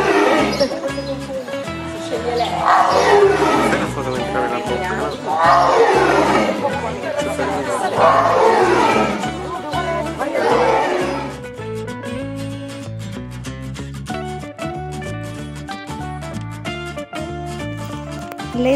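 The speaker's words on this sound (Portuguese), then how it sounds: "T de tigre." A tiger's roar sounds as a sound effect in a children's alphabet song, with several loud, broad roaring bursts over bright, steady music before the music carries on alone.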